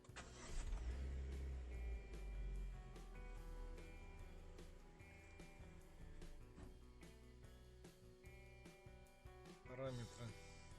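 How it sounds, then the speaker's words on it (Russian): Chevrolet Spark / Ravon R2 engine fitted with tuned camshafts and recalibrated, cranking and firing up, then settling into a rough, lumpy idle with small revs, while people talk over it and music plays. "Заводим мотор."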